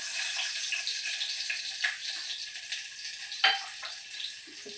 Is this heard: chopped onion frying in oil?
yes